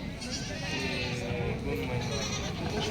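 A goat bleats at a busy outdoor goat market, its wavering cry set against a dense background of crowd murmur and nearby voices.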